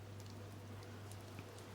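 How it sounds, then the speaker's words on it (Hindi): Heavy rain falls outside in a steady, even hiss with a constant low hum underneath and no other sounds. "उस दिन बाहर जोर जोर से बारिश हो रहा था।"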